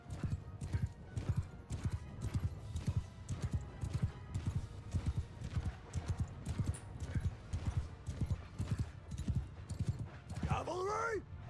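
Cavalry horses gallop in Mount & Blade II: Bannerlord, a dense, rapid clip-clop of many hooves that stays loud and steady throughout, with a horse whinnying near the end.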